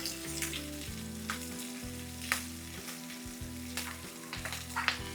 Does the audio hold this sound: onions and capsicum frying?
yes